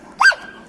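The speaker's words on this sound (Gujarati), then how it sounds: "હા, કૂતરાનો અવાજ છે." A single dog bark, short and sharp, heard alone against a quiet background.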